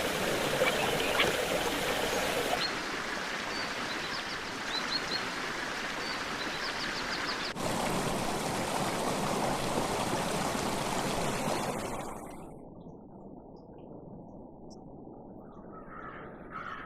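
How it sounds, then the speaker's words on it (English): Spring water flows at the En-Gedi desert oasis with a steady, full rushing and splashing that fades to a quieter trickle near the end, and no voices. "the numerous springs of En-Gedi provide the only source of fresh water for miles"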